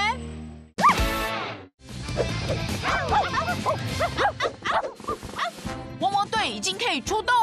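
Cartoon pups from PAW Patrol bark and yip in short, bouncy bursts, voiced by actors imitating dogs and mixed in with lively speech.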